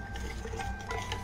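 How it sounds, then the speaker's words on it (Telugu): Junnu mixture is stirred by hand in a bowl, soft, close swishing and scraping strokes in a quick, even rhythm. "దీన్ని మనం బాగా కలుపుకోవాలి"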